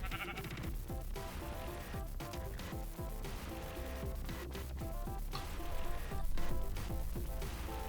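Sheep in Minecraft 1.7.2 bleat briefly amid busy, loud game music and clanking sounds, the animal calls partly buried in the mix.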